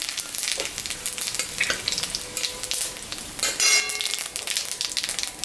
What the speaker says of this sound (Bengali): মাছ ভাজা তেলের উপরে শুকনো লঙ্কা,